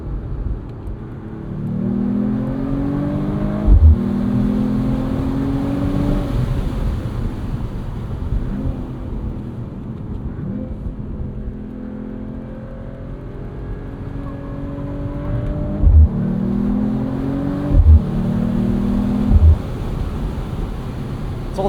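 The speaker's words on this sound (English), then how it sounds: "Couple little burbles from the exhaust, but this is in loud mode right now, so we can toggle the exhaust." 2025 Mercedes-AMG CLE 53 Cabriolet with a 443 hp turbo inline-6, exhaust set to loud mode, drones steadily through gear changes while driving in the evening, with a few short burbles and pops scattered along the way.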